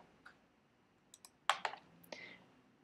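Sharp computer mouse clicks while working in CAD software on a balloon car part, a few isolated soft clicks followed by a louder close cluster of rapid clicks, alone in a quiet room.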